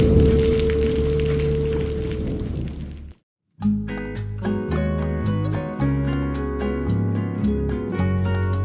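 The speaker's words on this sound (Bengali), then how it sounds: "প্রায় 1 ঘন্টা বৃষ্টি হওয়ার পর বৃষ্টি থামলো।" Heavy rain on a West Bengal village: a dense, steady wash of falling rain for about three seconds, then an abrupt cut to layered music.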